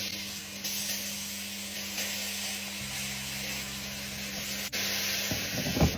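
Marinated oxtail sears in a pot with a continuous, moderately loud sizzling hiss and steady steam noise, a low hum underneath and a few brief clatters near the end.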